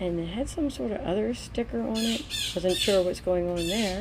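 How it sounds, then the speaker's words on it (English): Birds squawk and call repeatedly in the background while a person talks over them, the calls rising and falling throughout. "if you hear those birds in the background"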